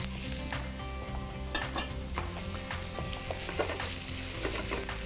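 Garlic sizzling in hot oil with fenugreek seeds and asafoetida for a Nepali-style mushroom curry, a steady soft crackle and fizz with occasional stirring scrapes, growing slightly brighter and busier toward the end.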